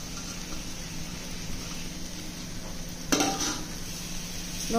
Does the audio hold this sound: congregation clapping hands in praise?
no